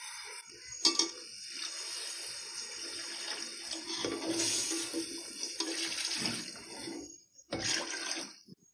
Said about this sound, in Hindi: जो हमने गोश्त बॉईल करते वक्त यखनी का पानी निकाला था, आधा कप हम ये ऐड करेंगे।